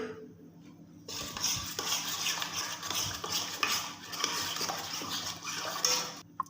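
A spoon stirs egg and spices together in a bowl for KFC-style fried chicken, a steady, close, wet scraping and clinking that starts after a quiet second and runs to the end.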